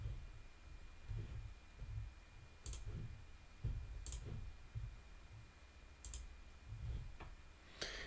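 Sparse computer mouse clicks while navigating channel branding settings on a computer, four or five sharp, isolated clicks spaced a second or more apart over a low background hum.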